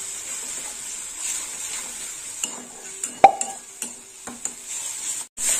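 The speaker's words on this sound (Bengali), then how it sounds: "দিয়ে দিলাম টমেটো বাটা। টমেটোটাও একটু ভাজা হবে এর সাথে।" Tomato paste fries in a pan with okra for a poppy-seed dish, a faint steady hiss beneath scattered spoon scrapes, a few wet plops and light clinks of the pan.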